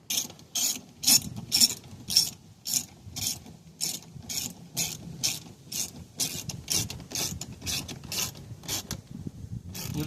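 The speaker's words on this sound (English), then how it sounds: "Then you'll replace the screws, and then you'll put the glove box back up" Screws being ratcheted snug into a 2013 Ford Fusion Hybrid glove box, a close series of quick, sharp mechanical clicks in steady rhythmic bursts that run throughout with no talking.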